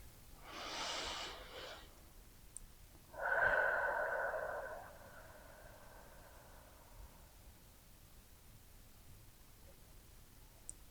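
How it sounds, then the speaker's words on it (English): Two deep breaths taken while lying on one side during a slow balance exercise, a soft airy inhale followed by a louder, longer exhale, close and quiet against a still room. "Taking a few deep breaths here."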